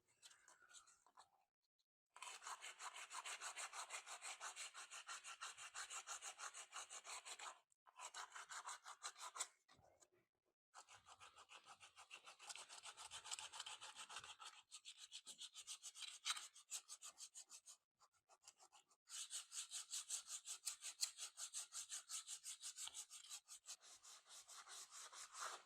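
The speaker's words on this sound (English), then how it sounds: "I'm going to use some sanding paper actually." Close, rapid back-and-forth scratching of sandpaper on wood in a fifteenth-century chateau room, in several bursts separated by short pauses, with faint murmuring at times.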